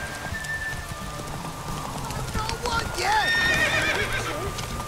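A horse gallops in The Witcher 3: Wild Hunt, its hooves clopping rhythmically up close, with a whinny rising near the end over faint rain-like patter and a brief voice.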